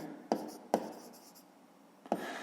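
Pen or pencil strokes on paper while a fifth-grade math exercise is worked out, three sharp taps and short scratches spaced apart, close and quiet, over faint room noise.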